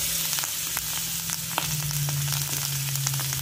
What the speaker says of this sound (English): Just place them down in there.